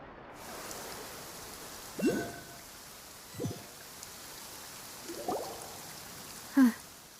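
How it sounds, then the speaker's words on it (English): Steady rain falling in the Fontaine region of the video game Genshin Impact, a soft continuous hiss with a few brief louder knocks and tones. "It's been raining non-stop for a few days now."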